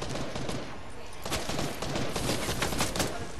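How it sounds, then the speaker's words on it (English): Rapid gunfire crackles in Fortnite, a dense burst of close shots in quick succession that grows busier toward the end, with no talk over it. "Definitely shooting at me now."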